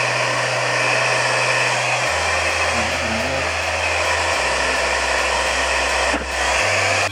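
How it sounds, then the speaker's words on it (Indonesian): A hair dryer runs steadily while drying a young man's hair at home, a loud continuous blowing roar that shifts pitch as the speed setting changes, with no talking over it. "Jadi keringinnya pakai hair dryer, oke?"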